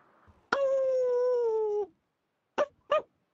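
A person imitates a coyote howl with a single sustained, gently falling vocal howl of over a second, followed by two short yips.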